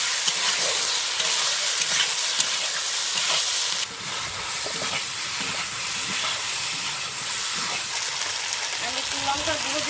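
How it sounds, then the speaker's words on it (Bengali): Chicken meat fries in spices on a stove and is stirred, a loud, bright, hissing sizzle with scraping stirs that dips briefly then carries on steadily, while someone talks now and then. "এই যে এইভাবে নাড়তে থাকবো, কষানো হয়ে যাবে।"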